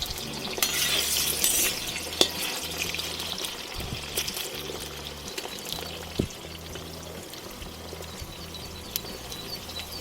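Potato pieces frying in olive oil in a kazan give off a soft, steady crackling sizzle, with occasional clinks and scraping from stirring, moderately near and fairly quiet.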